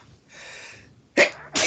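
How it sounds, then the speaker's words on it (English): A single sharp sneeze bursts out after a soft breathy inhale, followed quickly by a second short exhale burst, close and loud. "Sneezing feels so good."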